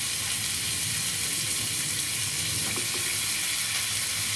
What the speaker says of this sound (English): now my pan is hot. Put my steak in.